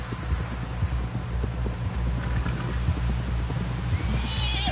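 Horse hoofbeats thud in a steady galloping rhythm in a video game, with a neigh rising near the end, all close and loud over a continuous low rumble.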